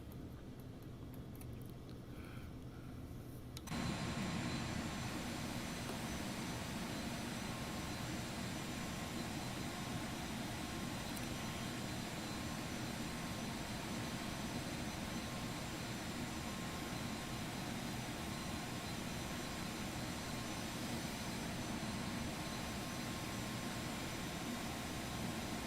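Twin jet engines of a Phenom 300 taxi in the X-Plane 11 flight simulator, a constant dense whine and rumble that jumps abruptly louder a few seconds in and then holds steady with no talking.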